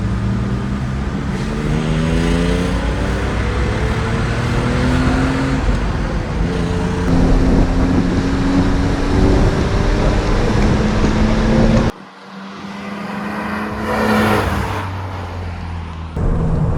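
A 1985 BMW 635CSI driving along a road, its engine note steady and loud throughout with rising and falling pitch as it accelerates, a brief shift-like dip near the end before the drone resumes.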